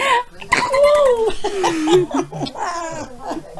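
A 9-week-old Yorkie-poo puppy gives high wavering whimpers and short yips, close and fairly loud, mixed with excited voices and laughter from people nearby.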